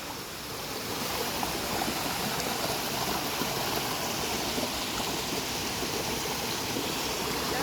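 Rushing water of El Kabayo waterfalls and a clear mountain spring, a steady broad wash of flowing, splashing water that runs on alone without pause from start to end.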